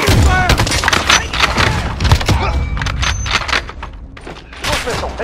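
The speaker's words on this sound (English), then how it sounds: "Cruise missile, take cover." A cruise missile strike in a military shooter video game sets off loud, dense volleys of explosions, thuds and gunfire, nearly continuous, with game voices underneath.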